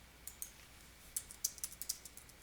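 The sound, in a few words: typing a question on a computer keyboard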